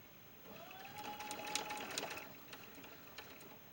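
A sewing machine runs a short seam on a small doll dress, a faint, soft mechanical whir with a few light clicks, quiet and close.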